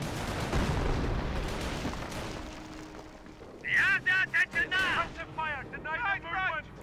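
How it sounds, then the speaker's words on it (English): Artillery barrage from the Company of Heroes video game, a decoy bombardment rumbling as dense low booms and blasts through the first seconds, then fading while a voice talks over the remainder. "Another decoy barrage."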